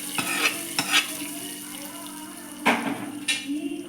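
Ground coconut paste is stirred into a jackfruit seed and salted mango curry in a pan, with a soft sizzle under a few scattered spoon scrapes and clinks against the pan, close by.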